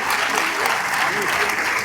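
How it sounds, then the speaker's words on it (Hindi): Enthusiastic audience applause at a police award ceremony, dense continuous clapping from a large crowd, steady and fairly loud, with faint voices in the room beneath it. "कृपया जोरदार तालियों से अभिनंदन कीजिए।"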